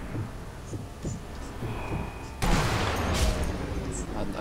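Gunfire in the video game Sniper Elite V2 comes as scattered shots and then a louder burst of fire midway, mixed with game sounds, while people talk over it.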